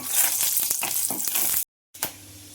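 Pieces of Byadagi chilli fry in a teaspoon of oil in a pan, giving a steady loud sizzle that cuts out abruptly, then resumes more faintly after a brief silence.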